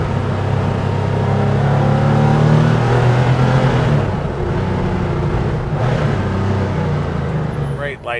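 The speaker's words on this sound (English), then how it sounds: "Great light flywheel, love the way the engine revs." A 1992 Porsche 911 (964) Carrera RS Clubsport with a light flywheel, its engine droning steadily under acceleration from inside the cabin, with a brief dip and a short burst of revving near the end.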